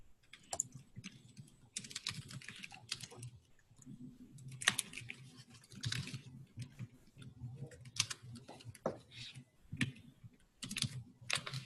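Quiet computer keyboard typing, with irregular bursts of clicky keystrokes and brief pauses between them, heard alone at low level with no talk.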